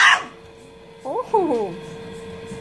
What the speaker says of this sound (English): look at that big bark. That big bark there.